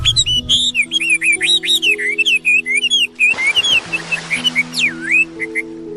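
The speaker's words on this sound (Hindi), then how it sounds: "आज इतनी मीठी आवाज में गा रही हो?" A cartoon bird sings sweetly in a string of bright, quick whistled chirps and trills that rise and fall, loud and near, over a soft musical backing, with no speech.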